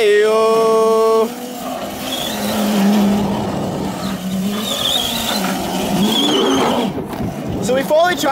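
An electric Crazy Cart drift cart runs fast along a private abandoned road, its motor whine rising and shifting while voices talk and shout over it throughout.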